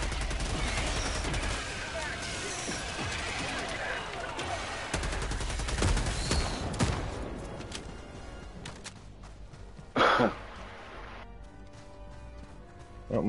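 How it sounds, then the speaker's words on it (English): Autocannon sentry firing in the game Helldivers 2, a dense run of heavy gunfire bursts with a sharp loud blast near the ten-second mark, under game ambience and a voice talking. "Auto cannon up top. Hopefully that works."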